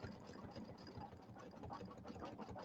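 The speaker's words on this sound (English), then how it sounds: "it's going to do the satin stitching." An embroidery machine stitches a satin-stitch border on an appliqué table topper, a steady, fairly quiet mechanical hum with fast rhythmic needle pulses running throughout.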